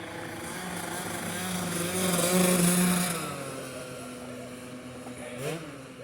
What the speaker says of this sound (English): young guy just rode by on a Vespa, or a souped up one. He's modified the engine. You can hear that.